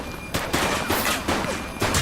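Gunfire from a vehicle in The Precinct video game: several loud, dense bursts of automatic shots crackle close by in quick succession over a noisy backdrop.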